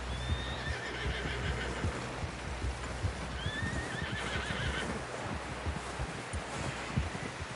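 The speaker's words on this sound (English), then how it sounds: "Someone help John down off this horse." A horse whinnies a few times over a busy, noisy background with thudding hoofbeats and rustling, fairly close, in the video game Red Dead Redemption 2.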